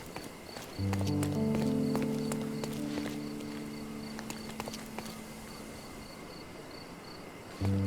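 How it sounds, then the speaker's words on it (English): Horse hooves clip-clop on city streets in the video game Sherlock Holmes Chapter One, a steady rhythmic trot that passes fairly close, with insect chirps and ambient hum beneath. "Oh wait, what? Oh, it's a horse."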